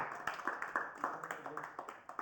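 A group claps for a prize winner at an awards announcement, sharp uneven claps in quick succession over about two seconds, moderately close, with a voice faintly in the background.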